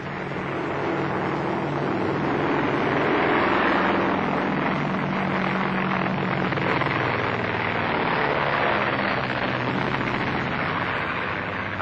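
An airplane flies overhead with a steady, loud broadband drone that holds for the whole stretch and swells slightly early on, with no speech over it.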